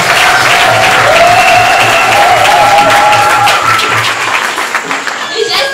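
Church audience clapping and cheering during a testimony gathering, loud and steady with a sustained wash of applause and voices, a faint rhythmic beat underneath and a few shouts rising near the end.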